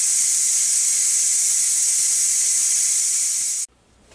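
Steady, loud hiss of steam rushing out of a pressure cooker on quick release after cooking a London broil pot roast with potatoes, continuous and unbroken for several seconds before stopping abruptly.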